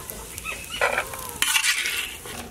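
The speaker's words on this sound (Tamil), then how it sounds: "முந்திரியை முன்னாடி போட்டு வறுத்துக்கலாம்" Cashews fry in hot ghee with a steady, close sizzle, broken up by bursts of stirring and the scrape of a utensil against the pan. No one speaks.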